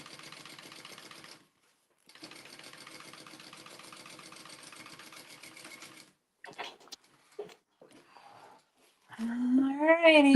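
A sewing machine top stitches a Tulip Trio sewing project in steady mechanical bursts, running for about a second, pausing briefly, then sewing again for several seconds. A few clicks follow, then a louder sound with a rising and falling pitch at the end.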